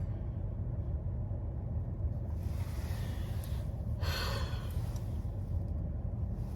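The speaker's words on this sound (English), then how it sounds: "I'm always yawning because I am tired of it." A person yawns once, a long breathy drawn-out exhale rising and fading over a steady low background rumble.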